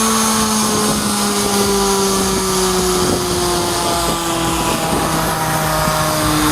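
A loud, continuous motorized drilling drone with a slowly falling pitch runs throughout as a drill breaks rock during a Manhattan sewer repair, with faint rattling and grinding mixed in and no pauses.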